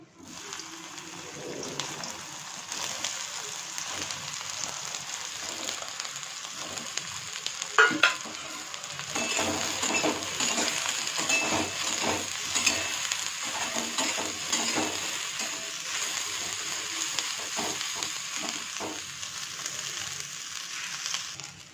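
Soybeans fry in hot oil in a kadhai, a steady loud sizzle with repeated scraping stir strokes and occasional clinks of the utensil against the pan, with no talking.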